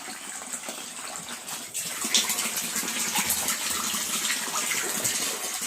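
Fresh water pours into a catfish pond as it is refilled, a steady, continuous gushing rush that swells slightly louder partway through and carries on without a break.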